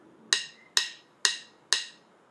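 A phone metronome clicks four times at a quicker tempo, the crisp, even ticks arriving roughly half a second apart and ringing clearly with no other sound.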